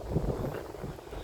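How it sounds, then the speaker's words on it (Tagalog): Strong wind at a tourist spot in South Korea buffets the microphone with a constant low, rumbling roar throughout the short moment, no clear voices. "Ang lakas ng hangin"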